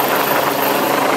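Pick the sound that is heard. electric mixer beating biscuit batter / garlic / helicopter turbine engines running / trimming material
helicopter turbine engines running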